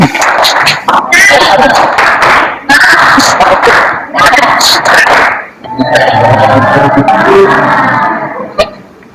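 A classroom of students does a rhythmic 'tepuk semangat' clapping chant as an ice breaker before a Friday-prayer fiqh lesson, with loud group claps in patterned bursts and voices chanting along throughout.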